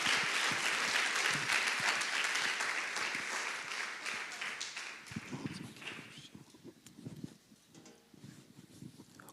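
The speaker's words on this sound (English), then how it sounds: "let's clap our hands and welcome Lux" A church congregation applauds in a dense, sustained wash of clapping that gradually thins out toward the end, loud and close with no voices over it.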